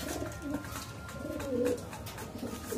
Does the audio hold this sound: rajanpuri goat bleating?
no